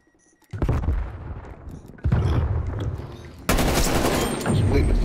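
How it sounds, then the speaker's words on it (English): Gunfire in the video game Black Ops Cold War comes in three loud, close bursts of rapid shots, with a voice speaking briefly among them. "I'm shooting you"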